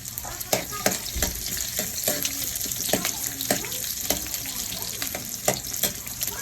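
Onions sizzle and crackle in a hot pan, with a steady frying hiss and repeated scraping stirs throughout, close and fairly loud.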